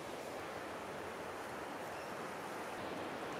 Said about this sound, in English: And I'm also at Wyrrabalong National Park, and it's very close to the ocean. That's why you can hear a bit of shh noise.